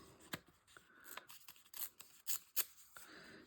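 Scissors snip through paper for a collage, trimming a small protruding bit: several sharp, crisp cuts spaced irregularly at close range, with quiet rustling of paper between them and no talking.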